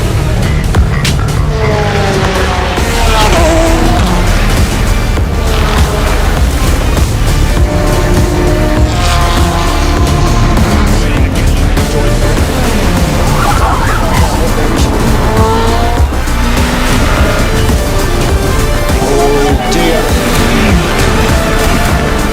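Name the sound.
Ferrari and Corvette race cars racing at Le Mans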